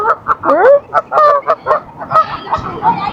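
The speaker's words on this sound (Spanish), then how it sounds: "Los gansos, los gansetes." Several geese honk in quick, irregular bursts, loud and close, calls overlapping with short gaps between them, in central The Hague, Netherlands.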